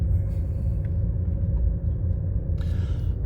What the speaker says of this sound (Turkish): Şimdi biraz da spor modda kullanmak istiyorum aracı.